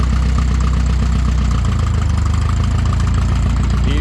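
A Jetstar tractor engine idles close by, a loud, steady low mechanical throb with a regular rhythmic chug throughout.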